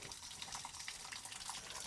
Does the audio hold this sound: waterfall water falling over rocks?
yes